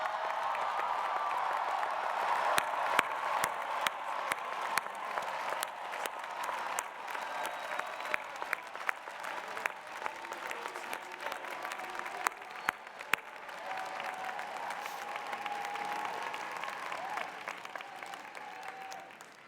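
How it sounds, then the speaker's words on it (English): A graduation crowd at a university arts school ceremony applauds and cheers, a dense sustained roar of clapping with scattered sharp claps and whoops, steady and loud throughout. "Please stand and give a cheer to everyone who has supported you to this moment today."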